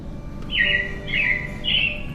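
Three short, bright robin chirps repeat at a steady pace over a low background hum, each call clear and fairly close.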